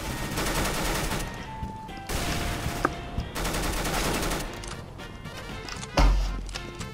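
Automatic fire from a UMP-45 submachine gun in Counter-Strike: Global Offensive, rapid bursts of shots crackling one after another with short pauses between volleys.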